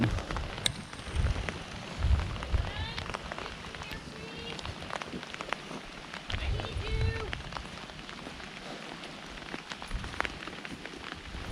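Steady rain patters on surfaces at an ATV campsite, a dense constant hiss of drops, with people talking faintly at times underneath.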